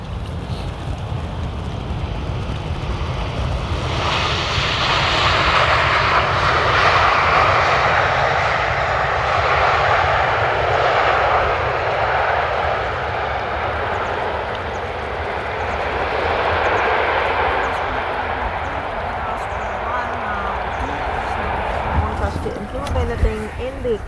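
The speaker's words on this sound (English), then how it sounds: "This one is KLM coming in from Oslo to Amsterdam. It's the Boeing 737." A KLM Boeing 737 arriving from Oslo at Amsterdam Schiphol's Polderbaan runway, its engine roar swelling from about four seconds into a loud, broad, sustained rush that holds steady to the end.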